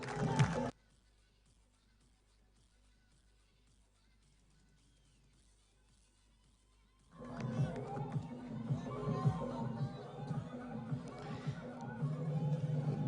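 A cricket crowd at a local Aaryan Premier League match cheers and shouts after a six, a loud, broad roar of voices that bursts in after a quiet stretch and keeps going, close and lively.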